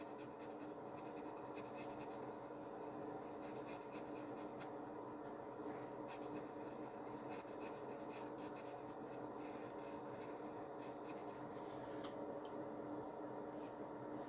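Steady pencil scratching and rubbing as graphite is shaded across paper, pressed hard enough to saturate it, a continuous close dry rasp with no pauses and no talking.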